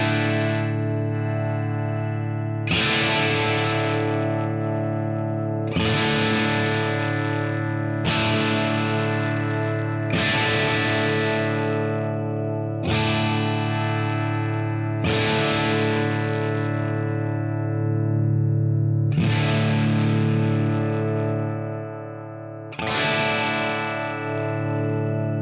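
An electric guitar played through a Maritime Analog Pistol Slapper overdrive pedal strums a repeated chord about eight times, each overdriven chord ringing out and decaying, as the treble, middle and bass settings are swept to show the tonal range.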